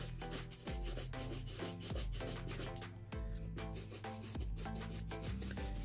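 Buffing and brushing a dance shoe, repeated rubbing strokes in a fast, uneven rhythm, close and fairly quiet, with no voices.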